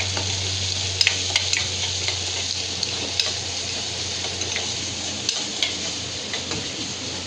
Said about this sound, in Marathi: कढीपत्तो आणि कांदो घातल्या फोडणी